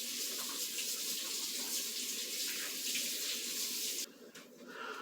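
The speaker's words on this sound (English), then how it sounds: "I'm going to wash my hands" A tap runs steadily while hands are washed under it, a constant close splashing hiss that is cut off abruptly near the end, leaving brief drips and light movement.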